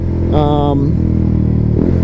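A motorcycle exhaust drones low and steady while riding, with a brief higher revving rise early on and a speaking voice running over the engine throughout.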